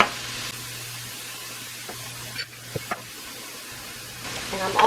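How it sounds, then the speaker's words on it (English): Food browning in a pan with salt and pepper seasoning, giving a steady soft sizzle under the whole stretch, with a few brief clicks and stirring scrapes and a louder burst near the end. "And so I'm going to start browning this."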